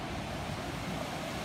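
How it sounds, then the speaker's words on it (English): Havasupai waterfall in the Grand Canyon, a dense, steady roar of rushing water filling the air without a break, heard alone and fairly soft. "one of the biggest crystal blue waterfalls I've ever seen in my life"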